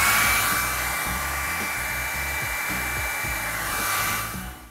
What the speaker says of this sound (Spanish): Y ahora lo secaremos con el secador iónico.